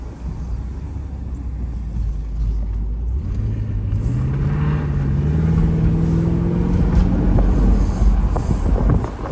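A neglected 2004 Mercedes-Benz S55 AMG W220 accelerating hard, its loud engine note climbing steadily in pitch over a heavy rumble for several seconds, with no talking.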